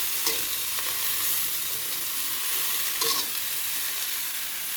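Vegetables being stirred in a hot cooking pan, a continuous close sizzle with a few scraping spatula strokes breaking through, no talk.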